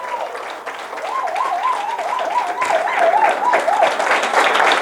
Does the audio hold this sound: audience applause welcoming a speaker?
yes